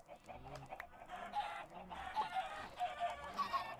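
Repeated soft clucking from several Minecraft video game chickens, close and moderately loud, with short higher squawks scattered through.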